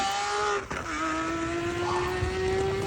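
A small ordinary car drives past outdoors, its steady engine drone holding a constant tone for a few seconds, with a brief dip and bump midway.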